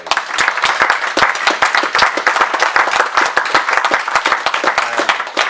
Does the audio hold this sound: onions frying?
no